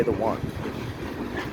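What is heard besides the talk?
Norfolk Southern freight train passing on a bridge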